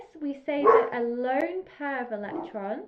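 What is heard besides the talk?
dog barking in the background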